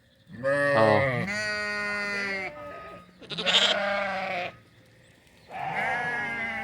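Farm sheep in St Croix bleat nearby in loud, wavering calls, three separate long bleats broken by short pauses, with no voices.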